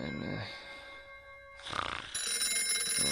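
A telephone rings on the line, a warbling tone heard twice with a quiet pause between rings.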